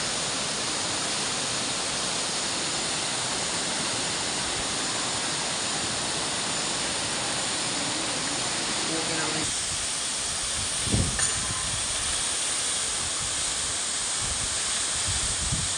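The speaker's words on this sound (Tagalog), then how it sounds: "Ito ang tinatawag na Tumagiti Falls." Tumagiti Falls, a mountain waterfall where hikers stop to rest, gives off a steady, dense broadband roar of falling water that fills the whole stretch, with one brief louder knock near the end.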